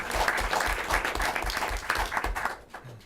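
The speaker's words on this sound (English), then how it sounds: "That deserves a round of applause" Applause breaks out in a school district board meeting room, a steady burst of many hands clapping for about two and a half seconds before fading out.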